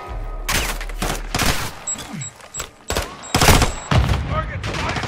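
Rapid automatic gunfire and single shots from the video game Call of Duty: Modern Warfare 2, with loud bursts repeating across the scene over a low rumble and a high electronic tone, mixed with shouted speech.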